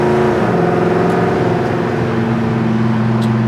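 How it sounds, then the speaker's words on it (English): A 1967 Chevy C20 pickup truck engine revs, a loud, steady close-up drone with a slight shift in pitch partway through. "That's how a truck needs to sound."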